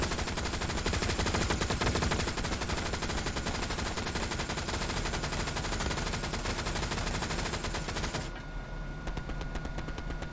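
Sustained, dense automatic gunfire in the World War II shooter Hell Let Loose, a loud continuous barrage of rapid shots that thins near the end, with no voices over it.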